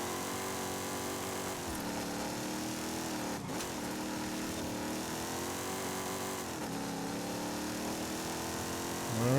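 Ferrari F50 engine racing in a video game, a steady loud drone that holds constant throughout and swells briefly near the end, with no talk over it.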